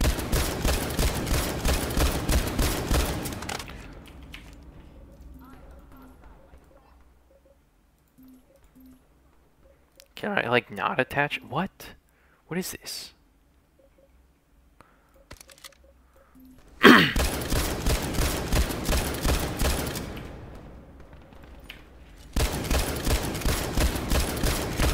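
A battle rifle loaded with Sable ammunition fires in rapid bursts in a video game, with loud, dense volleys at the start and end and a speaking voice in the quieter gap between them.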